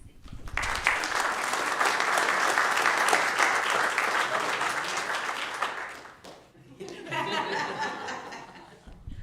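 An audience at a Santa Ana city council meeting applauds loudly for about six seconds, dips briefly, then claps again, with some chuckling and voices mixed in.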